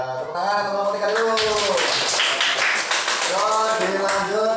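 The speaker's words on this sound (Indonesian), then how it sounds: "tepuk tangan kelompok 3 dulu." A classroom of students claps for a group after its presentation, a quick burst of rapid hand claps in the middle with talking voices before and after.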